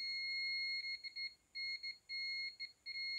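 A multimeter in continuity mode beeps steadily while probing a capacitor to ground on a laptop USB port board under repair, giving a thin high tone broken into several short pauses and bursts.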